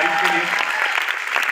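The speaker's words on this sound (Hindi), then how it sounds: "एक बार जोरदार ताली होनी चाहिए डिजिटल राइज के" Audience applause at a training program in Indore: steady, dense clapping from a crowd, fairly loud and sustained, with some voices mixed in.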